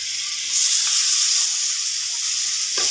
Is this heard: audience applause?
no